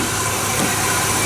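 A 2007 Ford F-150's 4.6-liter two-valve V8 idles close by with an even, rumbling drone and no other sounds.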